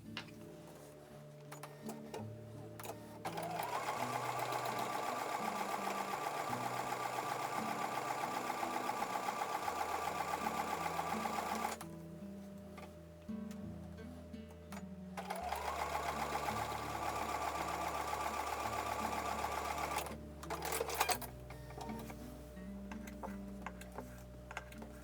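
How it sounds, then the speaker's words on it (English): A sewing machine stitches quilt block seams in two long, fast, steady runs separated by a short pause, close and alone. "So I'm going to take those over to the sewing machine."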